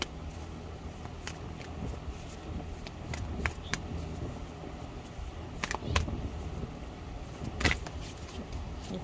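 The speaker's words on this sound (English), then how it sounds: "This is the only deck that I'm going to be shuffling." A deck of tarot cards being shuffled close by, soft papery riffles and sharp snapping flicks at irregular intervals over quiet room tone, without speech.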